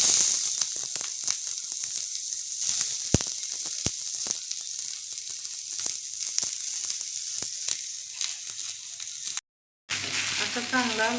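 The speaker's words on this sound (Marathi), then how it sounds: "त्याच्यामध्ये 1 चमचा तेल घालून कांदा परतून घेऊया." Onion fries in a spoonful of oil on a hot griddle (tava) with a constant close hiss and sizzle, broken by sharp stirring clicks and a short gap near the end.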